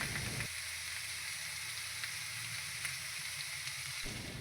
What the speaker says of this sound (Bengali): কড়াইয়ে তেল দিয়ে তার মধ্যে শুকনো লঙ্কা কালো জিরে ফোড়ন দিতে হবে